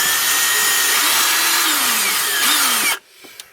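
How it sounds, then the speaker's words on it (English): A power drill with a 1/4-inch bit bores through a plastic fender of a Subaru Crosstrek, giving a loud, steady whine with pitch dips for about three seconds before it cuts off abruptly. "I'm just gonna drill a hole in the plastic right here."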